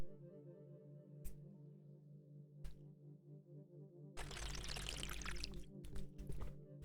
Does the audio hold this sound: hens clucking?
no